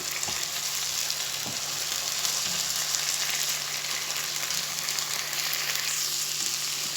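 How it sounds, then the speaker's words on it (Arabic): Onions and garlic frying in a pan with a splash of soy sauce, a loud continuous sizzle and hiss with a few faint stirring knocks throughout. "هنا معايا صويا صوص، هضيف شويه على البصله وهقلب"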